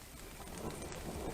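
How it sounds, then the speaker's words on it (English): Steady rain hisses evenly at a campsite, with a faint low rumble of distant thunder underneath. "Listening to the thunder and the rain."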